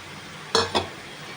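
Potato and onion being stirred with fried spice paste in a pan, two quick close scraping strokes in a row against a quiet background of low sizzle.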